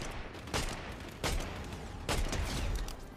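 Bursts of gunfire in Fortnite, three sharp volleys at roughly even intervals, moderately loud and close, with no talk over them.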